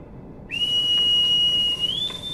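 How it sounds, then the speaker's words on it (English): A single sustained whistle blast sounds in the submarine game Silent Hunter 4: a loud, clear tone that holds steady and then slides slightly upward near the end. "Yeah, just blow a whistle."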